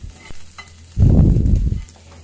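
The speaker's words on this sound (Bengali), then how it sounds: "আমি শুধুই একটু তেলের মধ্যে হালকা তেলে নিচ্ছি, নেড়ে চেড়ে ভেজে এটাকে উঠিয়ে নেব" Dried loitta fish is stirred and fried in a little oil. A quiet start gives way to a loud, close burst of scraping and sizzling lasting about a second before it quiets again.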